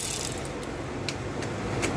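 A ratchet fitted with a 1/2 inch socket works a bolt loose during an alternator replacement on a 2008 Ford F-150 4.2. It gives a quick run of sharp metallic clicks close to the microphone, with no talking.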